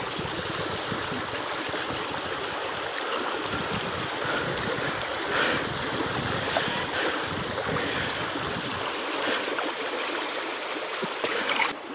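Water from a stream flows into a bottle dipped into it, a continuous rushing, gurgling wash of flowing water with airy noise, steady and close for several seconds, no talking.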